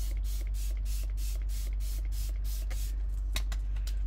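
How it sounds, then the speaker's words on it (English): A spray bottle mists watercolour paints in a quick regular series of about nine short hissing spritzes, close and clear, followed by a few more scattered sprays over a low steady hum. "I'll just spray these and get them hydrated."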